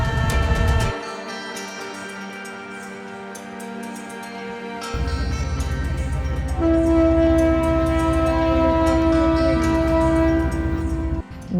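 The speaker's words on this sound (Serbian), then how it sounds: "Nešto što nikako ne smete da propustite u Vadi Rumu je vožnja istorijskim vozom iz 1916. godine." A historic 1916 train in the Wadi Rum desert rumbles along loudly, its horn sounding in long sustained tones over the continuous clatter and roar of the moving cars.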